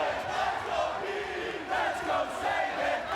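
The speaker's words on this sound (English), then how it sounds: "Listen to the crowd." Wrestling arena crowd cheering in a continuous roar with rhythmic chant-like swells, loud and distant, filling the whole space without a break.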